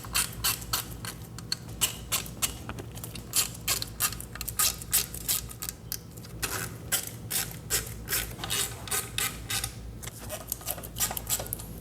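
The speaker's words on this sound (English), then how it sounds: "I'm just gonna tighten all these just enough to where they're barely grabbing for now." A ratchet wrench clicks rapidly and repeatedly up close while snugging camshaft cap bolts on a 2006–2016 Yamaha R6 engine, with short bursts of crisp ratcheting separated by brief pauses.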